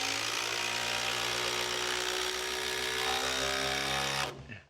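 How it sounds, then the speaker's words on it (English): A power drill pre-drills holes in wooden roof framing, running with a steady close buzzing whine for about four seconds before spinning down and stopping. "Pre-drilling these, definitely the way to go."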